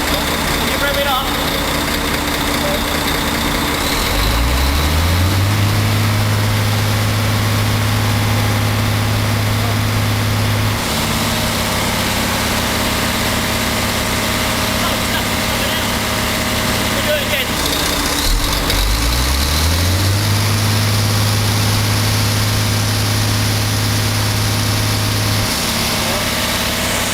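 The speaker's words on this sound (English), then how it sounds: "Hey, can you rev it up?" An engine revs up twice, its pitch climbing and holding high for several seconds before dropping back to a steady idle, loud and close throughout.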